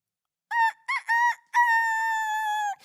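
A rooster crows loud and close: a few short broken calls, then one long sustained cock-a-doodle-doo with a clear, ringing tone and no other sounds around it.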